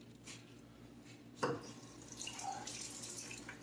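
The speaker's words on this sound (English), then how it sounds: "I'm going to rinse these leaves off one more time and shake them real good" Leaves for fermenting cucumber pickles are rinsed under a running tap, a soft steady water flow with a sharp clatter partway through, quiet and close.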